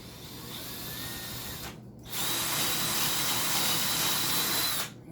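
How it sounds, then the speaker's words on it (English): A cordless drill driving small screws into a workbench whirs steadily at close range, pauses briefly, then spins up again at a higher, louder pitch before cutting off. "This cordless drill."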